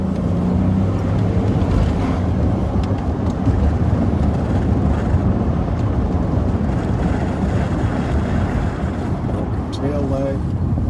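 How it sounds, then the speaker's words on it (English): A car with a very loud muffler rumbles continuously for about ten seconds, a heavy low drone passing on a street, with a brief tonal squeal near the end. "That's one hell of a loud muffler"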